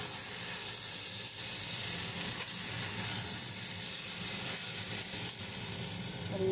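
Cumin powder sizzles in a hot pan while making a moringa gravy, a dense, even hiss and crackle running steadily close up with faint stirring scrapes.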